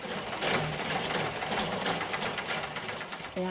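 A simple foot-pump sewing machine, used at a sewing school for local women, rattles in a rapid, steady mechanical clatter up close, running continuously and then stopping briefly near the end.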